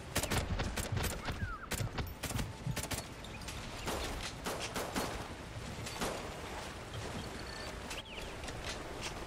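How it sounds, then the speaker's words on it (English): Rapid bursts of gunfire in Call of Duty: Ghosts crackle through the whole stretch, dense and loud, with sharp shots stacking over a constant rumbling background. "We heard gunfire."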